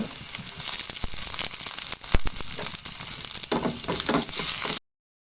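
Steady sizzling of shallots and green chilies frying in coconut oil, close and fairly loud, with occasional scraping stirs before an abrupt cut to silence.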